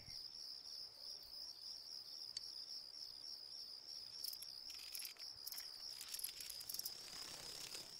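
Insects chirping in a bug-catching scene of the video game Persona 4 Golden: a continuous high, steady cricket-like trill fills the background, with faint rustling bursts building toward the end and no talk.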